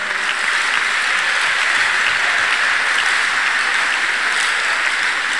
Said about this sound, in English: Every clap offering to Jesus.